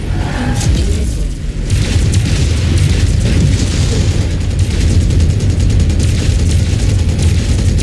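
Loud, continuous rumbling blasts fill a video game firefight as incoming missiles explode, a dense wall of booming detonations and heavy fire with no clear gaps between hits.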